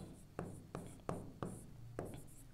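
Handwriting on paper in a Hindi lesson: five faint, close pen strokes, each starting with a soft tap and trailing into a scratchy scrape, spaced irregularly over a couple of seconds with no talking.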